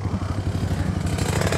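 Motorcycles labor uphill on a mountain road toward a sunrise viewpoint, their engines chugging steadily and loudly up close with a rough, pulsing mechanical clatter.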